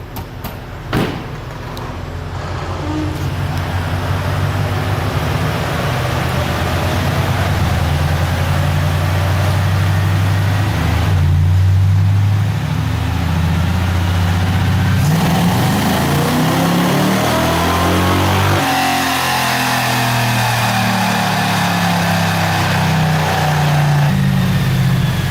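A nitrous-fed rear-wheel-drive Chevrolet Cavalier engine runs at full throttle on a dyno. It gives a loud, sustained mechanical drone whose pitch climbs steadily toward the end, with no talking over it.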